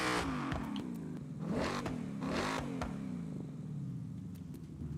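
A car engine in the racing game Forza Horizon 6, with its exhaust and intake removed, revs in repeated sharp bursts that rise and fall, loud and close, before settling to a rougher idle.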